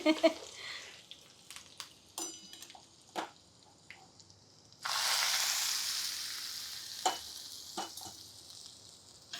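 Spice tempering hits hot oil in a pan for a Navaratri shakannam offering: scattered clinks and stirring taps, then a loud sudden sizzle that surges and slowly fades, with stirring knocks continuing over it.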